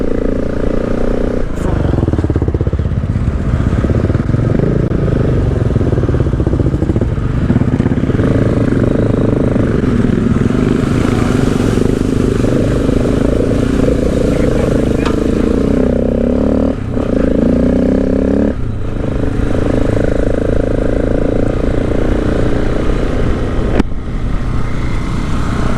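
A motorcycle rides along the gravel Creb Track on Cape York, its engine droning continuously beneath heavy wind buffeting, with rises and dips as the rider changes speed.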